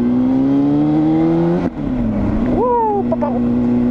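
Four-cylinder Honda Hornet 600 motorcycle from 2001 revving on a test ride, a steady engine drone that dips, then rises sharply in a quick rev before settling back, loud and close with a voice briefly over it.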